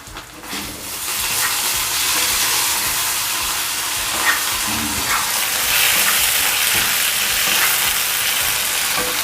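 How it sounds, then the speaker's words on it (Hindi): Ginger garlic paste sizzles loudly and continuously in a pan of golden onions for a chicken curry, a dense, close frying hiss with occasional stirring scrapes. "अब हम इसमें जिंजर गार्लिक पेस्ट ऐड करेंगे।"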